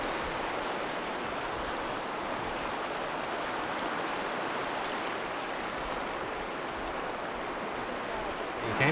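River water flows steadily through a valley on Tahiti, a constant, fairly soft rushing hiss that holds without break and has no talk over it.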